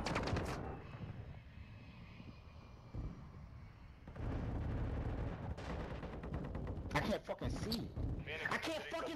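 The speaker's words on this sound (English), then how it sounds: "Fucking Harry is shooting through the building!" Gunfire in Modern Warfare 2, shots ripping through a building, bursts and booms mixed with aircraft-like roar while people talk loudly over the top.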